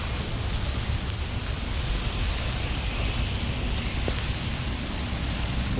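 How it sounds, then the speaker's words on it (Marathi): Heavy monsoon rain pours down outdoors in a steady, dense hiss that stays loud and unbroken throughout, with no voices. "पाऊस खूप पडत आहे"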